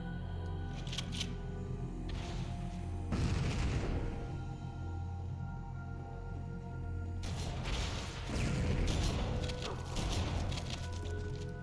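Loud booming blasts from rockets in Halo combat, two heavy bursts of explosive noise over a constant low game rumble, with scattered crackle between them.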